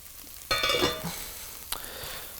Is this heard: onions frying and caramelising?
yes